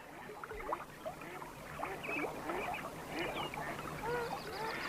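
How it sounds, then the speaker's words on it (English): Young mallard ducks on a beaver pond give soft scattered peeps and quiet calls, fairly faint and continuous over a steady outdoor background hiss. "This family of young mallard ducks"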